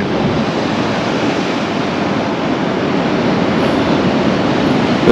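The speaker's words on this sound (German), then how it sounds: "Und da tosen die Wellen rein." Continuous roar of surf with waves crashing in at Isla Isabela in the Sea of Cortez, Mexico, loud and steady throughout, a broad wash of noise without any voices.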